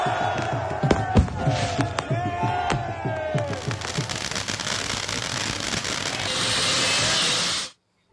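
Fireworks and firecrackers at a street celebration of an election victory, with repeated sharp cracks and pops in a rapid irregular series over crowd noise and shouting, ending in a sustained roaring burst before cutting off.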